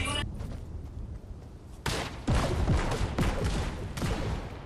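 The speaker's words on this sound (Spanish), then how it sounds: "ahora disparo con el rayo" A ray weapon firing in Fortnite during an intense final battle: loud bursts and booming blasts with falling, sweeping tones, several shots in quick succession, up close and dense.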